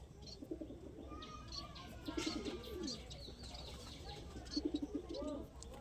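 Pigeons in moult coo faintly at a distance, with short, pulsing bursts of low calls recurring every couple of seconds over a quiet background.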